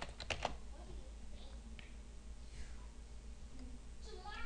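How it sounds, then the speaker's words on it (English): A few quick keystrokes tap on a computer keyboard near the start, followed by quieter, sparse clicks over a low steady room hum. "Hit enter, type in your password."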